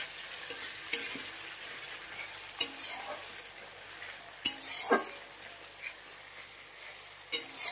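Spice masala stir-fried in a pan with a little water, a soft steady sizzle punctuated by sharp metal spoon knocks against the pan every couple of seconds.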